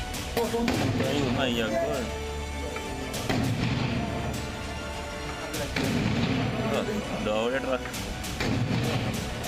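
Sharp bursts of gunfire and booming blasts from a counter-terror operation in Nagrota, Jammu and Kashmir, repeat throughout, while a voice talks over the noise.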